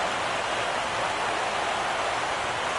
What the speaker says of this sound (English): the rain is coming down hard here